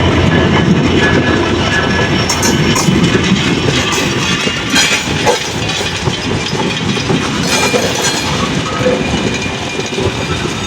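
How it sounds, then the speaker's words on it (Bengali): A broad gauge train hauled by a 6600 series locomotive arrives at Joydebpur station, a loud, continuous rumble with rhythmic wheel clatter and faint squeals, no voices. "জয়দেবপুরে প্রায় পঁয়ত্রিশ মিনিটের একটি বিলম্ব নিয়ে আমাদের ট্রেনটি প্রবেশ করতেছে ছয় হাজার ছয়শো সিরিজের লোকোমোটিভ ব্রডগেজ লোকোমোটিভ"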